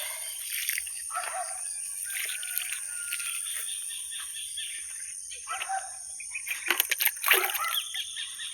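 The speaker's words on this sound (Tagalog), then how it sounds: "Mamisbista sa talong" Water splashes and trickles onto eggplant plants in a garden, soft irregular spatters rising toward the end over steady insect chirping and occasional birdsong outdoors.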